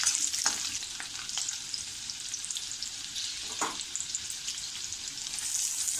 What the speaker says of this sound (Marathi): लसूण, ते व्यवस्थित आपल्याला असं थोडंसं परतून घ्यायचं आहे.